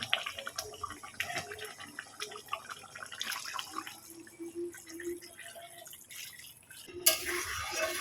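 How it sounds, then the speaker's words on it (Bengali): Hot water poured into a pot of fish curry with potato and taro, a soft running trickle and drips lasting several seconds, then a brief louder splash near the end, with no voices. "জলটুকু আমার প্রায় সব দিয়ে দিলাম।"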